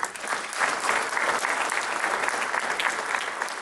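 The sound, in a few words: banquet audience applauding themselves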